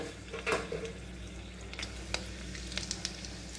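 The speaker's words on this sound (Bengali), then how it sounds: "তেলটা গরম হয়ে গেছে, এখানে গোটা গরম মশলা ফোড়ন দিচ্ছি" Whole garam masala spices sizzle in hot oil in a pan, a steady soft frying hiss with a few clinks of a utensil against the pot, close and fairly quiet.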